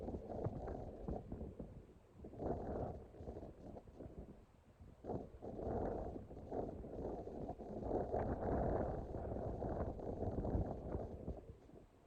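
Gusty wind blows across a pond during a fishing trip, buffeting the microphone with loud, uneven low rumbles in waves, with no talking.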